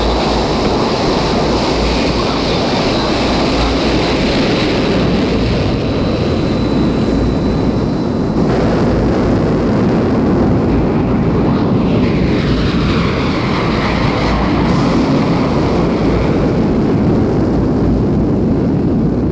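A 1969 Air Force aircraft takes off with a loud, continuous broadband roar and rushing noise that stays steady throughout, with no voices heard over it.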